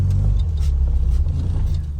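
A Morris Minor's engine runs at a steady idle close by, a deep continuous rumble with a faint uneven throb and no talk over it.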